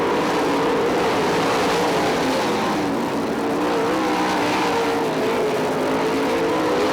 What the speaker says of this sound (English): Brecht really hammering on that car, trying to catch Nida